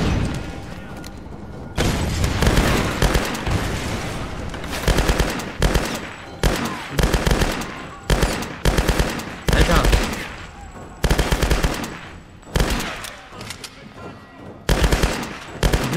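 Tomb Raider gunfire: repeated loud bursts of automatic shots and single cracks, spread irregularly through the scene with short pauses between volleys, occasional heavier booms, and some speech underneath.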